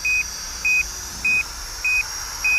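An SJRC Z5 GPS drone gives a low-battery warning: evenly spaced, clear electronic beeps, about five in a row, sounding alone over a faint steady hiss.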